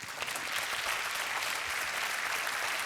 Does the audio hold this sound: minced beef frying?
no